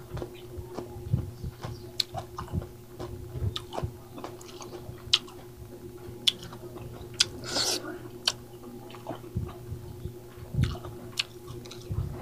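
Close-up chewing of fried tilapia and egg, with soft wet bites and crunches repeating steadily across the clip and no talking over them.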